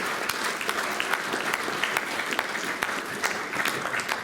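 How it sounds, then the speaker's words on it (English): Guests at a speedway riders' association dinner applaud an award recipient: sustained, even applause from a roomful of people, moderately distant and filling the space. "I think we all deserve a big round of applause for Ollie for coming up and taking this award"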